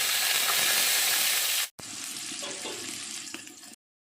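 Onion, ginger, garlic and green chilli sautéing in hot oil for a Kerala-style crab curry, a dense steady hiss that cuts out briefly, then a quieter sizzle with a few faint clinks before stopping abruptly.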